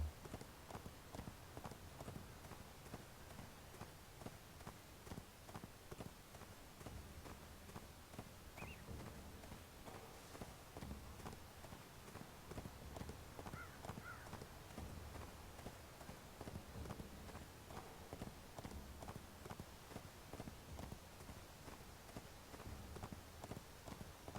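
A donkey mount's hooves clip-clop steadily in the fantasy MMO ArcheAge, an even walking rhythm that repeats throughout over faint background ambience, with no talk.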